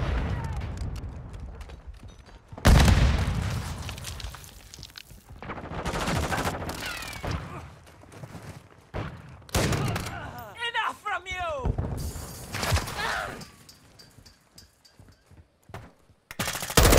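Call of Duty gunfire: loud close automatic bursts and single heavy shots in irregular clusters, mixed with in-game voice callouts and occasional whooshing effects, fading quieter toward the end.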